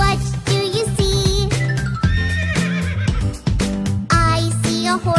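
Cartoon horse whinnies ring out over an upbeat children's song, a couple of shrill neighing calls riding above the steady backing track.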